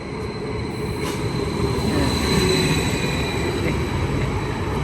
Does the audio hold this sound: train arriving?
yes